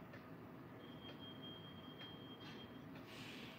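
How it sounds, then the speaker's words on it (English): A passing bus rumbles faintly outside, a low steady roar with a high whine and soft squeals, heard alone at low volume from indoors. "Oh, that was the bus."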